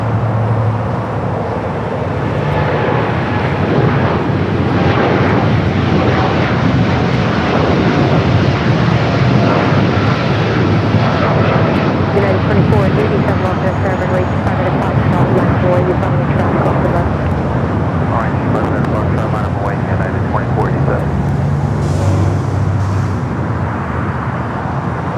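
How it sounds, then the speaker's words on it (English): A United Boeing Dreamliner takes off from runway 25 right at Los Angeles International, its jet engines producing a loud, sustained roar throughout, with a voice talking over it. "we do have a Dreamliner, United Dreamliner, taking off 25 right first."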